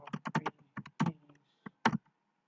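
Keystrokes on a computer keyboard while entering Java code, a handful of quick, close clicks in short bursts separated by pauses, with no talk.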